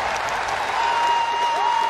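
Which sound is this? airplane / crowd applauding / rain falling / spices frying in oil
crowd applauding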